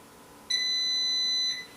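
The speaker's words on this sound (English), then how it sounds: "you can actually turn off the beeping sound that the Vortex has" An Instant Vortex Plus air fryer emits a single sharp electronic beep, a pure high-pitched tone lasting about a second, close and clear against a quiet background.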